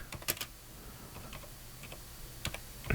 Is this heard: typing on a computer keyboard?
yes